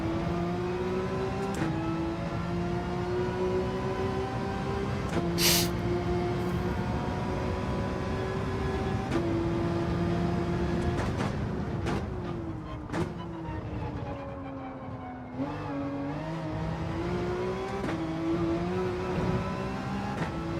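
A Porsche race car in Gran Turismo 7 drives on a race track with a steady engine drone that rises and falls through several gear changes. The tone stays close and constant throughout, with a brief sharp burst near the start.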